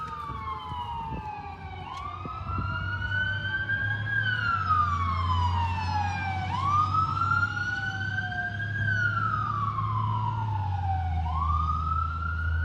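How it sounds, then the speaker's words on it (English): Emergency sirens wail in repeated rising and falling sweeps over steady traffic rumble, fairly close and continuous throughout. "we have the sirens coming here, so we might have to pause just a moment"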